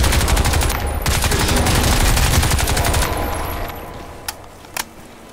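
Sustained rapid automatic gunfire in the shooter Crysis 2, loud and dense for about three seconds, then fading to a couple of isolated sharp shots and clinks.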